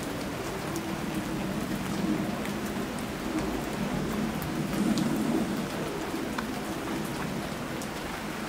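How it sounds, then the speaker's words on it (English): Steady rain falls continuously, a dense even hiss with scattered droplet ticks and a low rumbling undertone throughout. "No thunder. Just rain."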